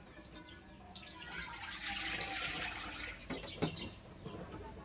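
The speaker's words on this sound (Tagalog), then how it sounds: "Tapos lagay na natin tong pangalawang gata, tapos lalagyan natin tubig." Coconut milk and water pour into a cooking pot for ginataang mais, a steady rushing splash that holds for a couple of seconds, then fades into scattered clinks and drips nearby.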